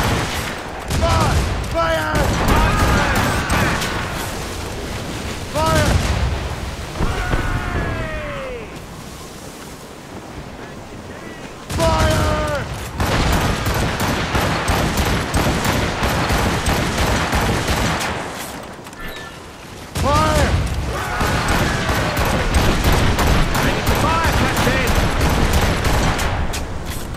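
Naval cannon volleys fired from sailing warships in Assassin's Creed Rogue, loud booming bursts in three long rolling salvos separated by brief lulls, with wind and sea noise beneath and voices shouting.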